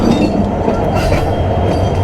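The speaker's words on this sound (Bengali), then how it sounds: "ট্রেন যাচ্ছে, চলেই যাবে" A train rolls past at a rail line near Santahar in Naogaon, Bangladesh, a loud, steady rumble with rattling wagon noise that stays constant throughout.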